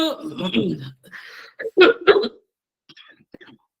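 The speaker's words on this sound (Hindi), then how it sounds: "थोड़ा जुकाम है, खांसी आ रही मुझे" A few short, sharp coughs up close, following a stretch of murmured talk, then quiet with faint small sounds.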